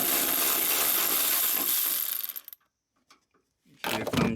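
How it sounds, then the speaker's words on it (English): A power driver whirs steadily for about two seconds while undoing torque bolts on a Mercedes Sprinter sliding door, then falls quiet with faint clicks before a brief second burst. "So now we're gonna undo these 3 torque bolts."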